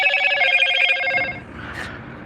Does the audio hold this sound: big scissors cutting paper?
no